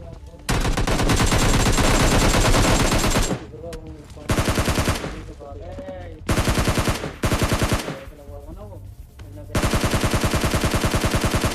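Rapid bursts of automatic gunfire from a PUBG Lite match, loud and close, firing in sustained volleys broken by short pauses, with quieter fainter shots in the gaps.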